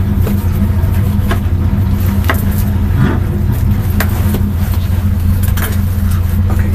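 A stock car on the oval at Kansas City during a Richard Petty driving experience: steady loud engine roar and road noise that stays dense and constant throughout, with no break in the sound.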